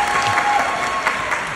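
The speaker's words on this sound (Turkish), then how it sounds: "Önce bir Doğancan alkış alabilir miyiz arkadaşlar?" A short burst of steady audience applause fills the moment, clapping heard fairly close and continuous throughout.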